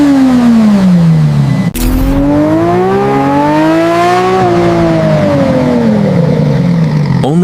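Lamborghini Revuelto supercar engine revving hard at the Sant'Agata factory's final test, its loud pitch rising and falling in several sustained sweeps with a brief sharp break near the start, no talk.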